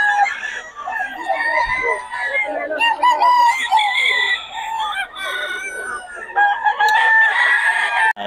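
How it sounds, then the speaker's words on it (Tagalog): Roosters crow repeatedly, loud and close, several calls overlapping, with clucking hens in the background. "pogi ng mga manok ni Boss Batang, mga idol."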